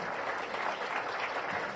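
Steady applause from a crowd at a Star Alliance pilots' association conference fills the space, a dense even patter of clapping at moderate volume with no pauses.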